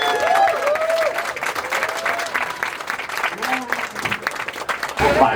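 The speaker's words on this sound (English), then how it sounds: "Give yourselves a round of applause" A convention audience at a Fallout developer panel applauds steadily and loudly, with scattered cheers and voices mixed into the dense clapping.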